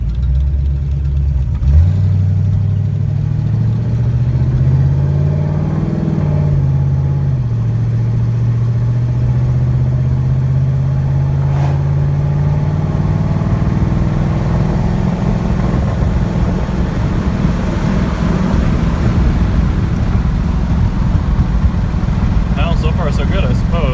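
A Mercedes 240D W115 diesel engine drones steadily while driving, running dangerously lean with no throttle position signal, its loud, close hum shifting pitch early on as someone talks over it.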